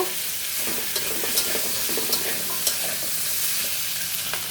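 Vegetable curry with green chillies fries in a pan with a loud, continuous sizzle, broken by repeated scraping and stirring strokes throughout.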